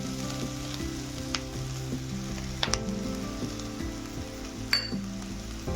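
Peanut powder is stirred into cooked dry val bean pods in a pan, a low steady sizzle with scattered spoon clinks and scrapes, close up and without speech.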